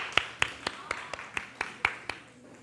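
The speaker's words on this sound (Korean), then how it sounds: "하나님께 영광의 박수 올려드리겠습니다" Hands clap about nine times at a steady, even pace at a youth Sunday worship service, a crisp rhythmic beat heard fairly close against a quiet room.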